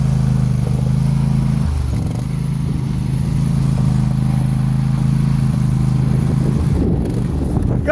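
A tractor engine runs loud and steady as a close, droning rumble, dipping briefly early on and turning rougher and more uneven near the end.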